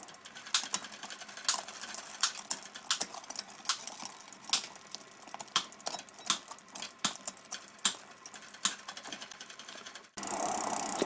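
Bicycle grip shift being twisted to move the rear derailleur across the cogs, a quick run of light clicks and ticks in an uneven rhythm, close and quiet, ending in a short rush of noise.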